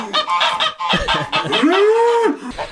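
A nesting goose on a cattle farm gives a loud, drawn-out honk after a burst of rough, clattering calls, close and clear with little else around.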